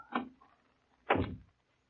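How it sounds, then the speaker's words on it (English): A door closes as a sound effect in an old-time radio crime drama, heard as two distinct thuds, a lighter knock followed by a louder, fuller slam, with no talking over it. "Better close the door."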